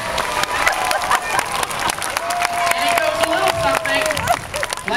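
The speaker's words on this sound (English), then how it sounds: "written by your very own Charlie Crane, let's give him a round of applause." An audience breaks into applause at a storytelling event, a dense wash of clapping mixed with crowd noise, cheering and a voice speaking over it.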